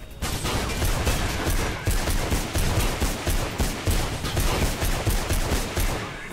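Dense gunfire in the video game Mirror's Edge: rapid bursts of automatic shots crackle in close, loud succession, forming a steady barrage that runs without pause for several seconds.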